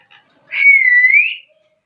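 A pet cockatiel gives a single clear rising whistle lasting about a second, loud and close, preceded by a faint short chirp.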